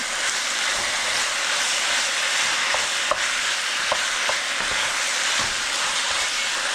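Ginger chicken stir fry sizzles loudly and steadily in the pan while being stirred, with a few faint spoon knocks over the constant hiss.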